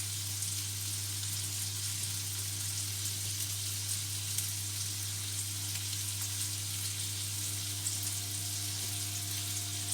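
IKEA-recipe meatballs frying in a pan give off a steady, even sizzle over a constant low hum, continuing unbroken through the whole stretch with no one speaking.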